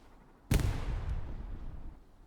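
A single anti-tank weapon shot in Hell Let Loose, a sudden loud boom that rolls into a long fading rumble with a faint crack partway through.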